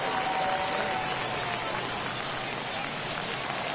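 Stadium crowd noise in the baseball video game MLB 23 during a tense ninth inning, a steady wash of cheering and clapping at moderate level with no break.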